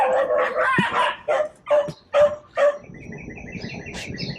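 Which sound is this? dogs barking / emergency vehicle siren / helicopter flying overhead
dogs barking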